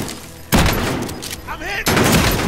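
Gunfire in Call of Duty: Modern Warfare, loud dense bursts opening half a second in, a brief lull with a voice, then another heavy burst of rapid shots.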